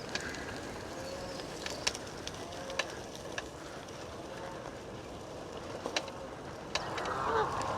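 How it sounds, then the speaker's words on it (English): A goose on a canal path early on a Sunday morning gives several short, sharp honks over a steady outdoor background hiss, with a louder burst of activity near the end. "Mind out of the way, Mr. Goose."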